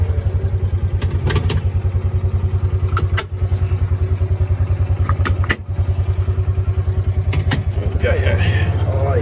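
A four-wheel-drive vehicle driving off-road, its engine a steady low drone with occasional clunks and rattles from the body over rough ground, loud and close throughout.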